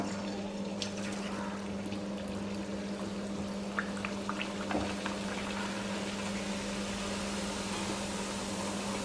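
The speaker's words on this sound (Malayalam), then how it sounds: "ഇനി നമുക്കിത് എണ്ണയിലേക്ക് ഇട്ട് കൊടുക്കാം." Battered pappadam frying in hot oil, a continuous dense sizzle and bubbling hiss with a low steady hum underneath and a few faint clicks.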